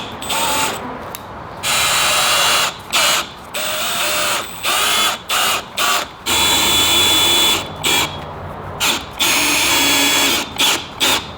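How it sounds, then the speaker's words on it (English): Loud power drill whirring in repeated bursts as it drills a hole in a box van interior, stopping and restarting with short gaps between each run, close to the microphone. "I think we'll have to drill a new hole"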